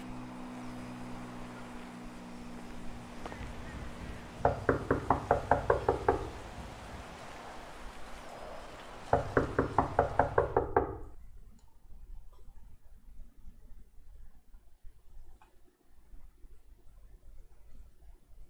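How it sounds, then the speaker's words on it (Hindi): Knocking on a house door in the video game GTA 5: two separate bursts of rapid knocks, about five or six raps each, fairly loud over a steady low background hum, with no talking. "नॉक करना आता है सर आपको"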